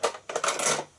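Short scraping and rubbing strokes of a bone folder pressed firmly across card, two quick bursts close up with no voices.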